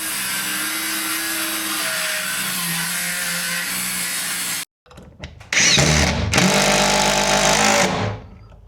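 A power tool trims the wooden custom entry door on a box truck: a long steady buzzing cut, a sudden stop and brief silence, then a few sharp bursts and another loud sustained cut up close, no talking.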